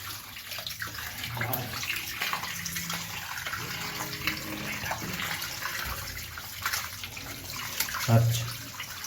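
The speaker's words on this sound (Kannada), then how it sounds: "ನೀರು ಬಿಟ್ಟು ಚೆನ್ನಾಗಿ ತೊಳ್ಕೊಳ್ಳೋದು." Fish rubbed with turmeric and salt is washed under a running tap, giving steady close running water with splashing and a brief louder gush near the end.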